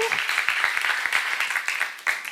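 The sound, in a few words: congregation applauding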